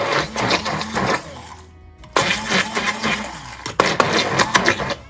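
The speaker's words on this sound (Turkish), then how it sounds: "Şimdi pürüzsüz olana kadar blenderdan geçireceğim." A blender purees soaked rice with water for vegan rice yogurt, its motor whirring loudly and steadily, stopping briefly midway before starting up again and running on.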